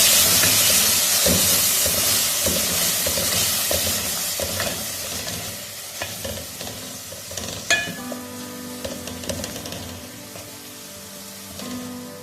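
Masala and tomato paste stirred in a hot pan: an intense steamy hiss and sizzle that gradually settles, with scraping stir strokes and a brief clank near the end.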